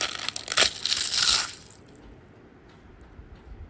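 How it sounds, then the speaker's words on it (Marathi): Crispy fried papad snaps and crunches up close in a loud burst of crackling for about a second and a half, then goes quiet. "आवाज बघा आता किती कुरकुरीत."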